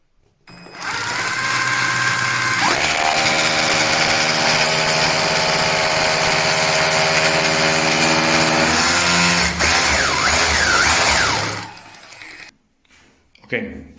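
An Einhell TE-HD 18 cordless rotary hammer drills and hammers steadily and loudly close by for about nine seconds, its whine shifting in pitch partway through before cutting off, followed by a few handling knocks.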